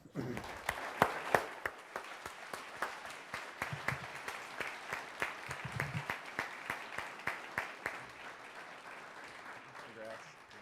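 An audience at a public service awards ceremony breaks into applause for a recipient of the 2019 Landmark Award for Excellence in People Management, with sustained, moderately faint clapping that gradually thins out as a voice begins speaking.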